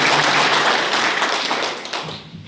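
Sustained applause from an audience at an assembly-constituency party workers' conference in Katangi, dense clapping throughout that fades slightly toward the end.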